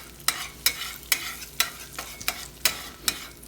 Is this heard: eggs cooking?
yes